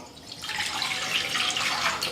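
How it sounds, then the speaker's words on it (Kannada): About two glasses of water are poured into a cooking pot in a home kitchen, a steady splashing stream that builds slightly over a couple of seconds, close and clear, with no speech. "ಈಗ ಇದಕ್ಕೆ ಒಂದು 2 ಗ್ಲಾಸ್ನಷ್ಟು ನೀರು ಹಾಕ್ಕೊತೀನಿ ರೀ"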